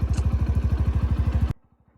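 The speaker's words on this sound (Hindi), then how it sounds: "इस बटन को दबाओ और बाइक फिर से ज़िंदा हो जाती है।" A motorbike engine on a night ride in Himachal runs close and loud with a fast, even, throbbing beat. It then drops abruptly to a faint, muffled pulse.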